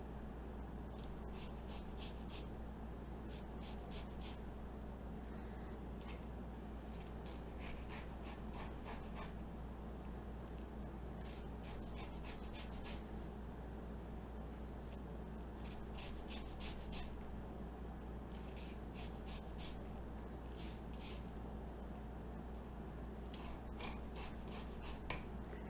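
Citrus fruit being zested on a grater, faint rhythmic rasping strokes in short repeated bursts over a steady background hum, with no talking.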